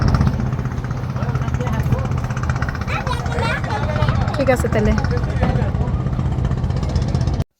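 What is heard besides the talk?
trawler boat engine running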